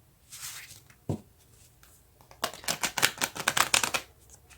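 Tarot cards being handled and drawn from a deck, with a soft early rustle, a single sharp tap, then a rapid run of crisp flicking snaps as cards are shuffled or fanned, close and fairly quiet with no talking.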